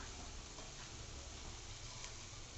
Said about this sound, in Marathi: आता आपण छान कांदा परतवून घेऊ असे छान परतवून घ्यायचा कांदा